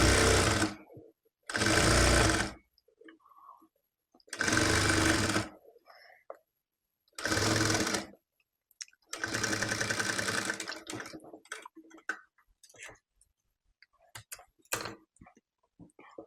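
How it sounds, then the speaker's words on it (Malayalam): A sewing machine stitches along the edge of a baby jumpsuit in four or five loud, close bursts of a second or so each, separated by pauses with faint handling clicks. "ഇതേപോലെ തന്നെ ഓപ്പോസിറ്റ് സൈഡും ഇതേപോലെ നമ്മൾ അരിവശത്ത് കൂടെ സ്റ്റിച്ച് ചെയ്തെടുക്കുക കേട്ടോ."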